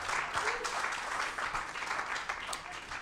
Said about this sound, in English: I think I heard a clap or 2 maybe.